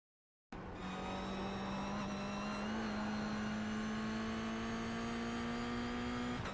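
A race car on the Nürburgring 24-hour circuit in a racing game roars with a loud, sustained engine tone after a short silence, the pitch shifting slightly before climbing gradually, with no talking.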